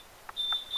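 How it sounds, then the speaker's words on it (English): A kitchen alarm timer, set while sanitising bottles during home brewing, beeps in short high electronic tones, two or three quick bleeps in a faint, quiet room with no talking. "Oh, that's my alarm for me sanitising bottles."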